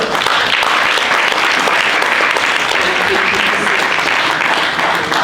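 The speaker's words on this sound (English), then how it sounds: "Please, let's give them a round of applause." Loud, sustained audience applause at a cybersecurity summit ideathon, a dense steady roar of many hands clapping with a few voices under it.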